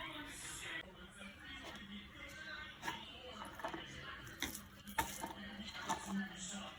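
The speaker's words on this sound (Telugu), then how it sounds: "నేను బ్రౌన్ చెనా 1 కప్ తీసుకున్నాను. బౌల్లో వేసి కొంచెం నానబెడతాను." Dry brown chickpeas (kala chana) tipped into a bowl in a home kitchen, giving scattered clinks and a rattling pour with light knocks against the dish, close up, while a person talks over it.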